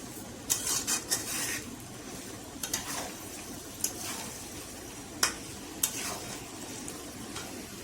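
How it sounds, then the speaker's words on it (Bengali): Hog plum pickle with sugar being stirred and fried in a pan gives a steady low sizzle, with several sharp spoon scrapes and clinks against the pan scattered through, close and alone without talk. "আচারটাকে ভালো করে ভাজা ভাজা করে নেব"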